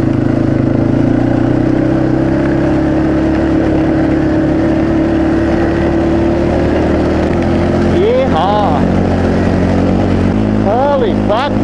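A two-wheel-drive motorcycle ploughs through deep slush and snow along a ditch, its engine droning loud and steady throughout, with a rising rev near the end as it struggles for grip.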